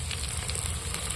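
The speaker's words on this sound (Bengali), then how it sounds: "টমেটোটাকেও একটু নাড়াচাড়া করে তেলের মধ্যে ভেজে নেব" Chopped tomato fries in oil in a pan, giving a brief, steady, bright sizzle with light crackling.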